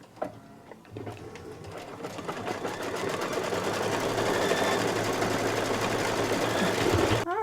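An embroidery machine stitches a red tack-down placement outline for a Santa hat on a table runner, a steady, fast mechanical whirr that starts softly and builds to a loud continuous rattle, alone with no talking.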